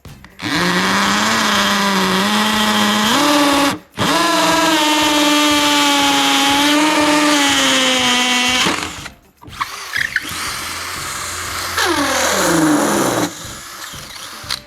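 A Bosch GSB 18V cordless impact drill fitted with a 12 mm masonry bit runs close and loud in long sustained whines, pausing briefly, then winding down and spinning up again in shorter bursts.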